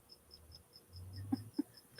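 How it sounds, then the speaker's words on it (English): A cricket chirping indoors, a regular series of short, faint high chirps repeating about four times a second, with a couple of soft clicks and low rumble beneath. "Oh, that's my cricket."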